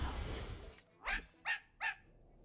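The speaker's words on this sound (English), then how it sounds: "Why are you barking" A dog in the Honkai Star Rail video game barks three times in quick, evenly spaced yelps, close and clear over a quiet background.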